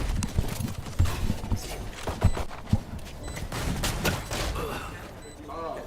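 Gunfire in the video game Valorant during a Boise State vs Colorado State collegiate match: several sharp shots and short bursts at irregular intervals under energetic caster commentary.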